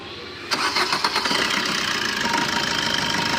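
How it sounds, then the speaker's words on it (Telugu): A Maruti Brezza car engine cranks and catches after a brief silence, then settles into a steady, fairly loud idle close by. "ఒకసారి ఇంజన్ స్టార్ట్ చేస్తున్నాం చూడండి"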